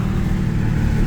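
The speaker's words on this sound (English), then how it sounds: "let's do the window down to hear the exhaust through the tunnel" Loud, dense exhaust roar from a Dodge Challenger Redeye wide body, heard from inside the car with the window down while it drives through a tunnel, a steady low rumble with no talking.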